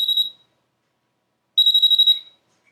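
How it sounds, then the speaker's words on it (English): A moisture meter beeps as it registers moisture from pet damage, a short tone followed after a pause by a longer run of rapid, evenly spaced high beeps, close and clear with nothing else heard. "whenever it registers any kind of moisture from the pet damage, it's going to beep"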